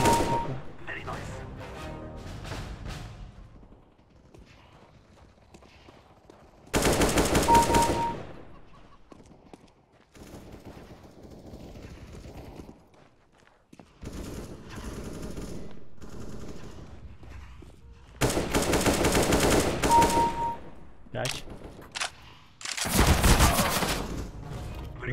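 Rapid automatic gunfire from the game CS GO, coming in several loud bursts a few seconds apart, with quieter game ambience and brief sounds in the gaps between them.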